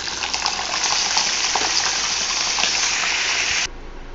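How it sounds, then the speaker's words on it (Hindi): Cumin seeds and two or three chopped medium potatoes sauté in hot oil for aloo methi, giving a loud, steady frying sizzle with light stirring scrapes that cuts off abruptly near the end. "जीरा डालने के साथ साथ ही हम इसमें 2 से 3 मीडियम साइज के कटे हुए आलू ऐड कर लेंगे और इन्हें अच्छे से हम लोग सॉटे करेंगे।"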